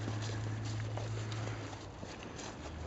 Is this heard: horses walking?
yes